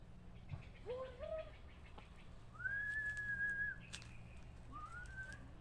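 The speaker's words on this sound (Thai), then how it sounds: "เวลาเขาสีเอากระป้อมเขาก็สีผิวปาก" Someone whistles while hunting lizards outdoors in the countryside: a few short rising whistles, then a long sustained note and another rising whistle. The sound is faint and fairly distant over a low background hum.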